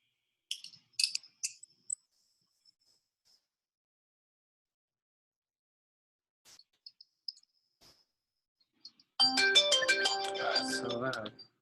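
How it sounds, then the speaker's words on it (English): A new phone's ringtone bursts in loud and close near the end, a busy, bright electronic melody, after scattered faint chirps and clicks over near silence. "New phone, new ringtones. That last one was really obnoxious."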